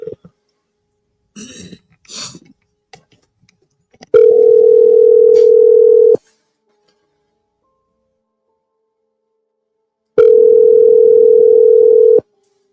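A telephone ringing tone heard on an outgoing call. Two long steady tones sound about six seconds apart, loud and close. Brief low voice sounds come before them.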